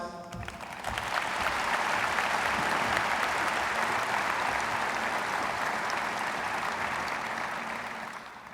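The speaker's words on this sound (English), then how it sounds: "can we give another round of applause?" Sustained applause from the audience at a 2020 high school graduation ceremony, a dense crowd clapping that rises within the first second and holds steady for about seven seconds before easing slightly.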